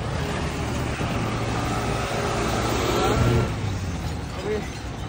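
A vehicle driven fast and recklessly on the road: a continuous, close engine and road roar that swells briefly in the middle, with no clear speech over it.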